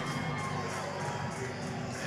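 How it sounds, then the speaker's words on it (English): A cage-fight crowd cheering and shouting as Pat Miletich walks out, a dense continuous roar of many voices close and loud. "there's one of my buddies right there cheering him on"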